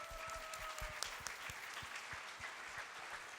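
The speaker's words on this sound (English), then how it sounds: "Let's give applause." Scattered applause at a mandatory real estate office meeting, a small group clapping in uneven individual claps that sound fairly faint and distant in the room.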